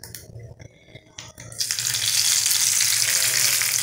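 Hot fried cumin tempering poured over cooked mixed dal, a sudden loud hissing sizzle that bursts in after a few light clinks and stays bright and steady to the end.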